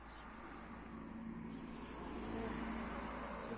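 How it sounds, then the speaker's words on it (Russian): Road traffic with cars driving past, a steady low rumble of engines and tyres that swells slightly toward the end, heard at a moderate distance with no talking. "Ну, машины ездят."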